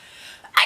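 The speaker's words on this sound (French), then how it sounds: "je vais éternuer" A single sharp sneeze bursts out near the end after a quiet moment, close and loud, with a short intake of breath just before it.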